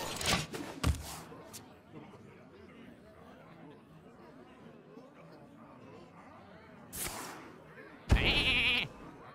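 A sheep bleat from the Polymorph spell in the card game Hearthstone sounds once near the end as a loud, bright burst, following earlier game effects and a man's chatter.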